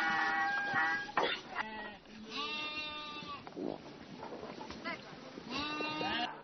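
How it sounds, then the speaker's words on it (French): Sheep bleat repeatedly on a farm in Lianfeng village, Linhe district, China, with several overlapping calls close by, some long and wavering, others short, over a busy yard background. "Âgé de 34 ans, Yang Xiaohong élève des moutons dans le village de Lianfeng, dans le district de Linhe."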